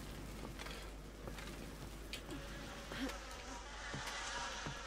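Bees buzz steadily in the fantasy world of Guild Wars 2, a continuous insect drone with a few faint, brief accents. No one speaks.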